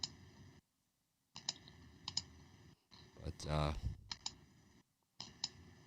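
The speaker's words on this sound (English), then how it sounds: "your mic is like right next to your keyboard or something" Computer keyboard keys clatter close to a microphone in rapid bursts of clicks separated by silent gaps, with a brief voice speaking midway.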